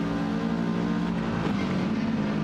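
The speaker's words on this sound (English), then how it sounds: "if you have a close look at the cars as they buzz by the camera" Race cars in a racing video game at the Dragon Trail Gardens circuit buzz past a trackside camera, giving a steady, dense engine drone that swells and shifts pitch midway as the cars sweep by.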